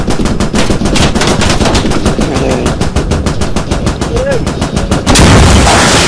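Loud, sustained automatic gunfire from the Squad shooter game hammers in rapid bursts, close and dominant, then continues with a denser, heavier barrage near the end; faint voices sit beneath the shooting.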